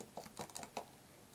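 A web address being typed on a computer keyboard, a few quick, quiet key clicks in an uneven rhythm, close and alone.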